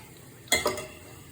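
Vermicelli roasting in ghee in a pan for beetroot semiya payasam, with two quick stirring scrapes close by over a faint background sizzle.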